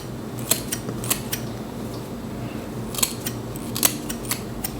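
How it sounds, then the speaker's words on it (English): Thinning shears snipping through a synthetic half wig, a series of crisp metallic cuts in two clusters of quick snips over a low steady background hum, fairly close and moderately loud, with no talking. "I'm gonna take my thinning shears"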